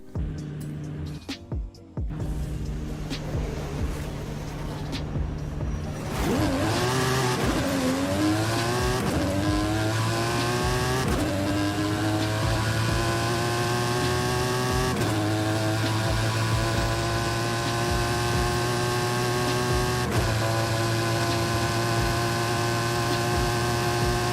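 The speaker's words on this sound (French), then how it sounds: "je vais passer au test de la voiture avec la petite course de drague" A racing car engine in Forza Horizon 5 roars through a drag race, revving up and climbing through repeated gear changes in a loud, sustained, close engine drone with no talk.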